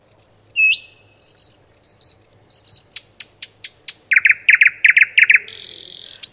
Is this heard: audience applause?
no